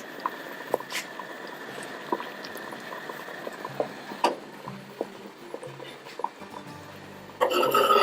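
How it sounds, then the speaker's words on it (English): A pot of kishkiyya bubbling on the stove, with soft patters and occasional faint pops over a low simmering hiss that grows louder and busier near the end. "give it another boil"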